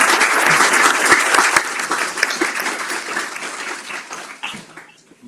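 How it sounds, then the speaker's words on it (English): Audience applause for the founders of the Gay Liberation Front at a school district event, a full burst of dense clapping that holds steady and then tapers off near the end. "I want to give each and every one of them a quick round of applause"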